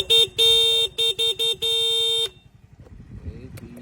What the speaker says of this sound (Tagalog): Sa busina naman po, ang nilagay po natin dito ay PIA horn.